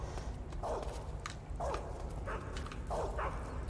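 Several sharp dog barks from a guard dog in the stealth video game Metal Gear Solid 3, coming in separate bursts spread over a steady background hum.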